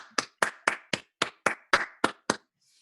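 A single person clapping near the microphone, about nine crisp, evenly spaced claps, then quiet.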